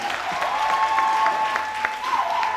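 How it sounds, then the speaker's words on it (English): An audience at a youth leadership academy claps for a guest speaker in an indoor hall, giving a dense, even patter of applause with a few sharper hits and a steady background hum. "Ryla, what type of clap do you think he deserves?"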